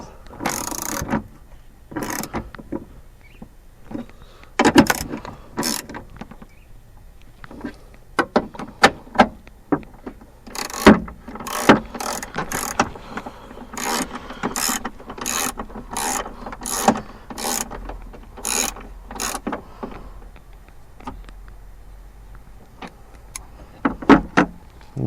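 Ratchet snugging a bolt on a Volvo steering wheel, with rapid clicking bursts of pawl strokes in irregular runs, close and crisp, with short gaps between sets.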